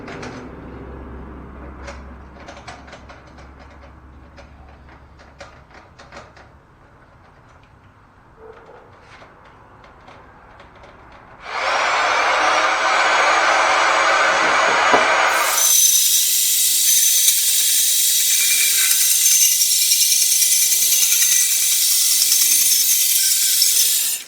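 A Shopsmith bandsaw resawing a board starts with quiet shop clatter and handling, then a loud, steady whining cut rises and holds to the end, close and without talk.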